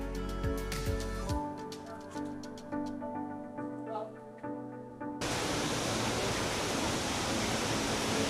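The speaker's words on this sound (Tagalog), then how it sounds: "Shifen Waterfalls." The Shifen Waterfalls roar as a broad, dense wash of rushing water that cuts in abruptly partway through and holds steady and loud, following a stretch of background music.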